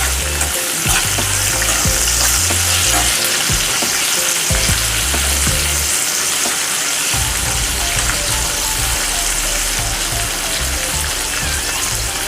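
Masala okra sizzles loudly and continuously in oil in a pan over a low gas flame, with occasional stirring scrapes and no talking.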